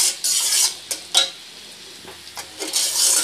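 A spoon works through honeycomb kotkoti mixture in a pan, giving intermittent scraping strokes and soft clinks over a light, close sizzle, with short pauses between stirs.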